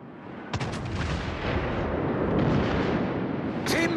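Artillery fire in a tank video game, heard as one sharp blast followed by a long, dense roar of rumbling gunfire and explosions, loud and sustained, ending with another burst.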